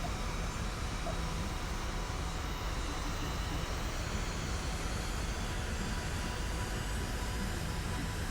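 A rocket engine with its afterburner engaged roars in Kerbal Space Program 2, giving a steady, dense, broadband rumble that holds at constant loudness for over eight seconds.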